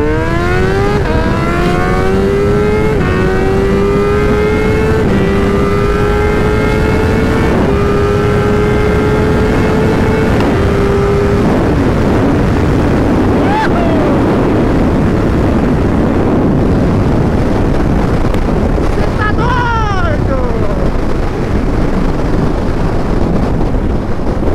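A Suzuki SRAD 750 sport motorcycle without mirrors revs hard and accelerates up through several gears, each pitch climb cut by a shift, then fades away, passing loud and close amid wind buffeting at a street gathering.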